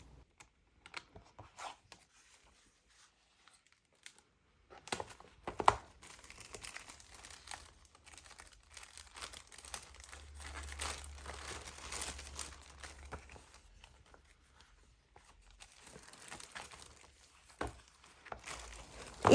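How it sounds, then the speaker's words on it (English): Scrap paper pad from a craft thrift store haul being opened, with paper crinkling and rustling in scattered bursts, louder and denser in the middle, close and alone with no talking. "Let me also open up the scrap paper pad and give you a peek."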